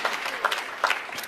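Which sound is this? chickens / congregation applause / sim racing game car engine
congregation applause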